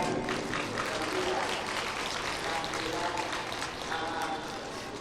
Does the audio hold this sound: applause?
yes